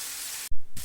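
Chicken pieces pan-roasting on high heat in a little oil and ghee for tandoori chicken, a steady broadband sizzle that briefly drops out, then returns louder, close and continuous with no voices.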